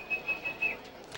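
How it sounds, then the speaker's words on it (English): A referee's whistle at a varsity football game, heard as a few short, fairly faint, evenly spaced blasts over crowd murmur. "We've got a whistle"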